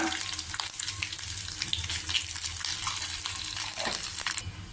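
Mustard seeds, chana dal, cumin, chili pieces and asafoetida tempering in hot oil, a steady loud sizzle with crackling pops throughout, no voices.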